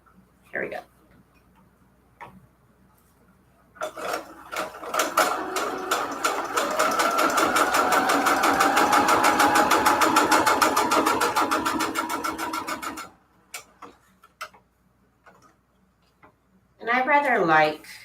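A sewing machine runs a long straight stitch through junk journal pages, a fast even mechanical chatter lasting several seconds, framed by brief clicks and handling noises before and after.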